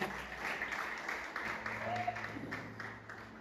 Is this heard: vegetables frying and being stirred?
no